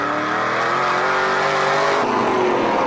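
Loud, high-revving NASCAR Canadian Tire Series race car engines roar continuously, the pitch sliding down and then shifting as they go through a corner on an oval track, heard on board, no talking.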